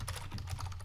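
Rapid soft keystrokes on a computer keyboard tap out close by, a quick run of light clicks over a faint low hum.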